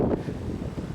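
Wind buffeting outdoors, a continuous low rumbling roar with gusty fluctuations, close and moderately loud with no voices.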